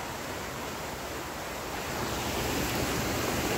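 A river flows through a mountain canyon, heard as a steady, loud, broadband rush of water that stays constant with no talking over it.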